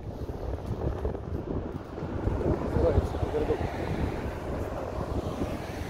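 Winter wind blows through the small downtown of Astoria, Oregon, buffeting the microphone with a continuous low rumbling gust that swells and eases slightly over several seconds.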